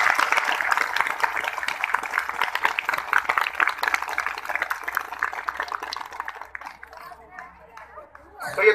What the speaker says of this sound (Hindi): तो मैं चाहूंगा कि जोरदार ताली आपकी तरफ से सबके लिए।